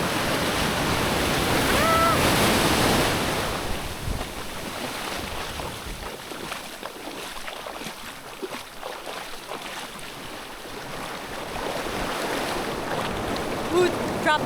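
Ocean waves wash into a small swimming cove at a beach in Sayulita, Mexico, a broad rushing surf that swells loud early on, eases off, then builds again, with wind mixed in.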